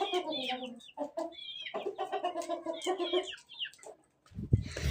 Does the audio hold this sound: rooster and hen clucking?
yes